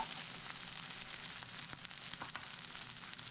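Green pepper and onions fry in a pan with a steady, close sizzle and scattered small crackles and pops throughout, with no voices.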